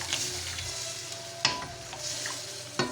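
Coconut milk (gata) for a Bicol dinuguan being stirred in a pot as it heats toward a boil, with soft continuous bubbling and sizzle, scraping strokes of the spoon and a couple of brief clinks against the pot.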